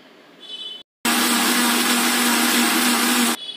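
Mixer grinder running at full power on soaked rice for adai dosa batter, a loud steady roaring whir after a brief stop, then cutting off near the end.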